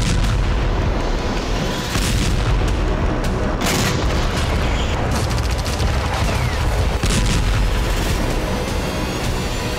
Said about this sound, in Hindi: कहीं ड्रोन के जरिए विस्फोटक कोहराम, तो कहीं आर्टिलरी शेल और एमएलआरएस से बारूदी भूचा।